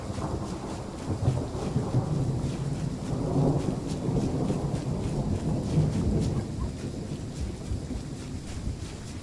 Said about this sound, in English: Oh, no, crack of thunder.